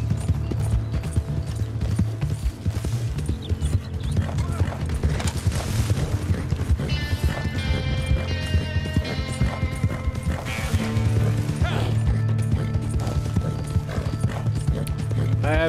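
Rhythmic clip-clop of horse hooves galloping in the video game Red Dead Redemption 2, fast and steady across the whole stretch, with a whinny and mechanical clinks and a layer of game music underneath.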